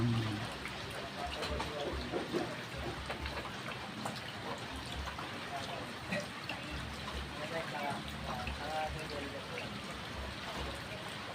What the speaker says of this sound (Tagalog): Pinasok na, tubig na rin na po dito.